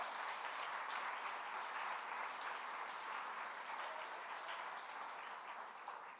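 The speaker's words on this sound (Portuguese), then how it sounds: "Pode aplaudir bem forte ao Senhor?" A church congregation at a Sunday celebration service claps loudly and continuously, a dense, even wash of applause that holds steady and tapers slightly at the end.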